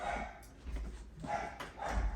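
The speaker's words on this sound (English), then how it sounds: "I'm sorry if you guys can hear my dogs." Dogs bark in a few muffled bursts, somewhat distant, as though from another room.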